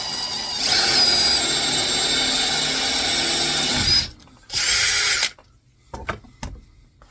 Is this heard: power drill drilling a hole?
yes